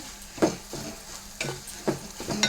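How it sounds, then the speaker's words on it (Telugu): Tempering spices dropped into hot oil in a pan, giving a soft crackling sizzle with a few sharp spatters and stirring scrapes, fairly quiet with no voices. "ఇంక ఇందులో తాలింపు వేస్తాం కదా"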